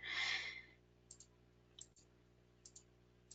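A computer mouse clicks softly in a quiet room, a few paired clicks spaced about a second apart after a brief breathy noise at the start.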